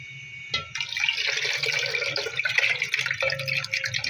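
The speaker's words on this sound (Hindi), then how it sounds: "अब हम डालेंगे अपना फटा हुआ दूध" Curdled milk is poured into a pot already holding water, a steady close splashing and trickling liquid stream that runs continuously with small surges and sloshes, no talk.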